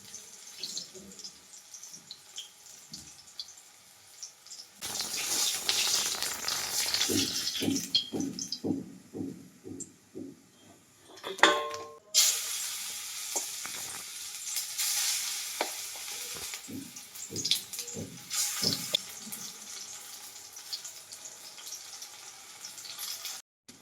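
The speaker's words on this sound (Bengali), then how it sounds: "দেখেছো খুন্তিতে জল ছিল বলেই তেলটা কি ছিটকে এসে পড়লো।" Hot oil spatters and sizzles in a pan after water on the spatula hits it, with a loud, crackling hiss, stirring scrapes and a sudden sharp flare partway through.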